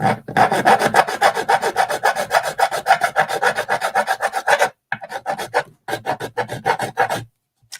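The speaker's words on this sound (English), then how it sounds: "I take a nice round bastard file" A round bastard file rasping back and forth to radius and deburr an edge, in steady rhythmic strokes, brief pauses breaking up the later strokes before the filing stops, close and loud with no talking.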